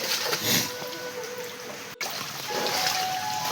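Rainwater trickles and splashes steadily around a flooded thatched hut roof during heavy rain, a continuous wet hiss with a brief dropout midway.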